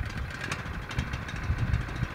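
A small Keene firefighting pump engine runs just after starting, a rough, uneven mid-pitched putter with irregular knocks, close and moderately loud, no voices.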